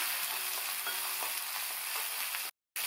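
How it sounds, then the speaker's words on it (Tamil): Shallots, garlic and dried red chillies sizzle steadily in hot oil in a pan for a pirandai thuvaiya, with light stirring scrapes, a continuous close frying hiss that cuts out briefly near the end. "அது கூட 10-12 சின்ன வெங்காயம், 5-6 பூண்டு இதையும் சேர்த்து வதக்கிக்கலாம்."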